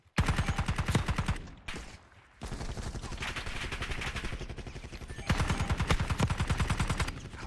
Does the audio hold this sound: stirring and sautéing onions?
no